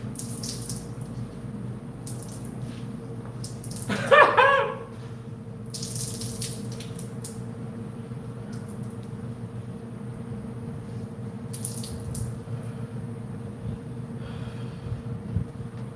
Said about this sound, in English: Let me rinse the shirt out.